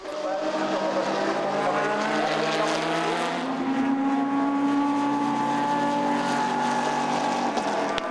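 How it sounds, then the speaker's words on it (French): GT race cars, including Aston Martins, at speed on the Zolder circuit, engine notes swelling and shifting pitch as they pass, loud and continuous with a brief sharp click near the end. "était néanmoins relayé par Michael Schmetz, dont l'Aston Martin était clairement candidate à un doublé sur le circuit de Zolder"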